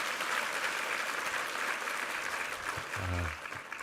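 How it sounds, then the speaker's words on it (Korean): A church congregation applauding during a Sunday worship service, sustained steady clapping from a large crowd filling the whole clip, with a brief low voice near the end. "우리 윤성래 권사님 아주 우리 한번 일기 대상이신데 함께 한번 격려 박수 한번 더 부탁합니다"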